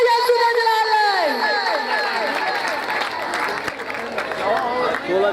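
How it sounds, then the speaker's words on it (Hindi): At a revival meeting in Pakistan, a congregation bursts into loud clapping and cheering, with high excited shouts and whoops rising over continuous applause for the whole stretch. "जोरदार तालियां यीशु दे जलाल लाए"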